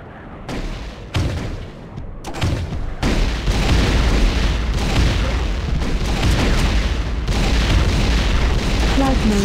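Grenade launcher blasts in Tribes 2 gameplay: a rapid series of sharp explosive booms in the first few seconds, then a thick sustained rumble of continuing blasts and battle noise, with a voice talking over it.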